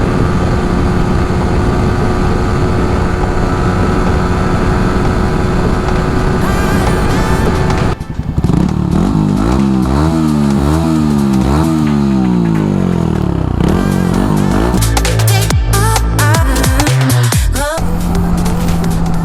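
A Yamaha R15 v3 motorcycle with a modified stock exhaust runs loud and close, holding a steady drone before revving hard in repeated rising and falling sweeps.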